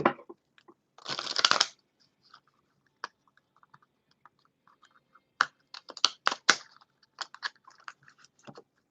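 A deck of tarot cards is shuffled by hand, a dense riffling burst near the start followed by scattered light card flicks and several sharper slaps and taps later on, close and fairly quiet with no talk.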